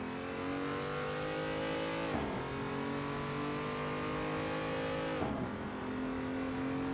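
Race car engine in Assetto Corsa on the modded Gran Turismo Seattle Circuit screams at high revs, with two quick gear shifts dropping the pitch before it climbs again, loud and continuous with no talk.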